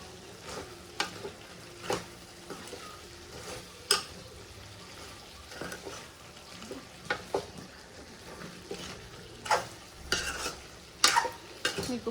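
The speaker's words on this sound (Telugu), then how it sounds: "వాష్ చేసి పెట్టుకున్న మెంతి కూర వేసుకొని బాగా కలపండి" Fenugreek leaves being stirred into a simmering chicken curry in a pan, with a steady soft bubbling sizzle and scattered scraping clicks of a spoon against the metal pan, moderately close and free of speech.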